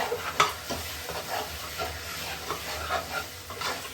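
Prawn thokku sautés in oil in a pan, with a soft frying sizzle and repeated scraping stirs at a moderate, uneven pace.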